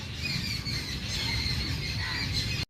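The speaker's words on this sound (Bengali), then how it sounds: "সব পাখিগুলো খিচির মিচির করতে শুরু করে দিয়েছে ওকে দেখে" Several birds squawk and squeal in a steady, noisy chatter outdoors, a dense shrill layer of calls continuing throughout before cutting off abruptly at the end.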